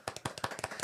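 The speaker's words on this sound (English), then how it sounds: "Round of applause for yourself." A small group claps hands in quick applause, several close, sharp, evenly spaced claps in a short burst with no voices.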